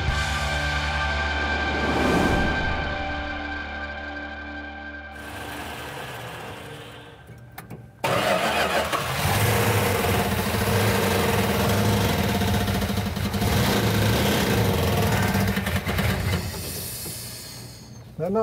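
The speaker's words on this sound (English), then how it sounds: "When we initially fired it off, it was running on about 6 cylinders." A rebuilt 1970 Plymouth 340 Cuda engine turns over, catches and settles into a rough, uneven idle while running on only some of its cylinders. It sounds loud and close, with steady mechanical rumble and hiss and no talk over it.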